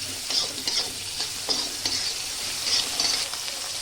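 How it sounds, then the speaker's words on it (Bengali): Mushrooms fry lightly in oil tempered with panch phoron and radhuni in a pan, a soft steady sizzle broken by repeated scraping strokes of a spatula, close and without voices. "মাশরুমটাও আমি হালকা করে ভেজে নিচ্ছি।"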